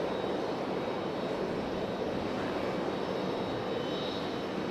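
Marine Air cargo plane passing at Raleigh-Durham International Airport, a steady, fairly faint engine roar that holds evenly throughout with no voices.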